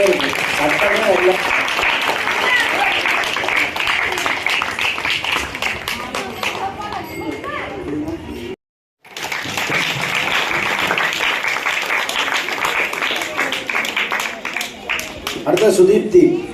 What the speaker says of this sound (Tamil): கைத்தட்டெல்லாம் கம்மியாகவே இருக்கு